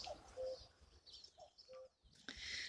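A cuckoo calls repeatedly in a garden, its two-note calls moderately distant and separated by pauses, with other birds twittering faintly around it in the open air.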